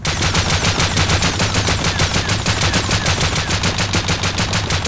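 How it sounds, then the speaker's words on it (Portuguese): Rapid automatic gunfire from a silenced gun in the video game Rust rattles continuously for several seconds, a dense, loud stream of evenly spaced shots with no pauses. "Vou dar uma rajada de tiro aqui pro pessoal escutar."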